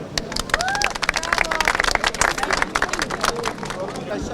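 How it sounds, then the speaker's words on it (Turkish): Street bystanders in Ankara break into applause, a dense patter of many hands clapping for several seconds, mixed with crowd chatter and voices talking over it. "Alkış alalım"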